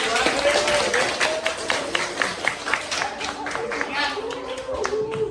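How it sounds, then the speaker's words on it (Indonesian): A class of students applauds a group in an Indonesian school lesson, with scattered claps running steadily throughout while people talk over them. "tepuk tangan buat kelompok 2"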